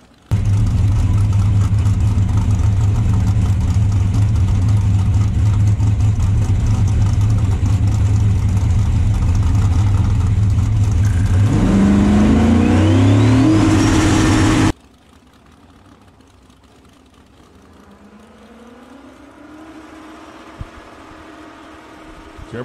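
Turbocharged drag racing car engine at the strip: a loud, steady droning roar that climbs in pitch before cutting off abruptly, leaving a faint, distant engine rising quietly in the background.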